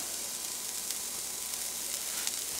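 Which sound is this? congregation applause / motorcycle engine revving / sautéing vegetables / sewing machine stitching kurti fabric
sautéing vegetables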